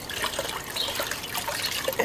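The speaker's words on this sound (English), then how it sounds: "I'm just going to rinse it in some cold water for now" Cold water trickles and splashes as a coyote hide is rinsed for tanning. The sound is a steady close wash of running water with small drips and sloshes throughout.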